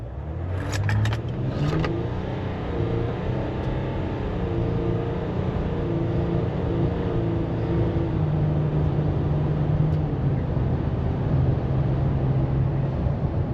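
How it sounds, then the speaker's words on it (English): Steady EcoDiesel truck engine pulling through a firm, part-throttle acceleration on a street, a continuous loud drone with slowly rising harmonic tones and a few brief clicks near the start. "this won't be wide open throttle, it's just gonna be like a more aggressive acceleration"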